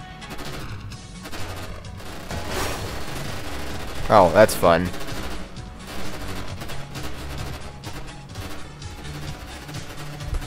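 Gunfire in the video game Half-Life: G-String, a scattered run of shots and crashes mixed with game effects and music, with a brief spoken remark over it.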